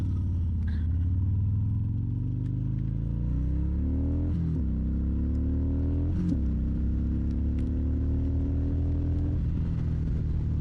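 A Harley-Davidson Fat Bob motorcycle rides along with a deep, steady engine rumble close by, its pitch rising and falling through several gear changes under constant wind noise.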